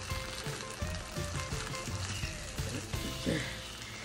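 Onion and a tablespoon of brown sugar cooking in a pan, a soft, steady sizzle with a scatter of small pops and crackles, fairly faint and continuous throughout.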